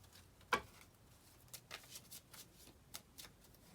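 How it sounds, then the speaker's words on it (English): A deck of cards is shuffled in quick riffling bursts, one sharp snap followed by several softer flicks, close and otherwise quiet. "And I'm still going to shuffle and draw."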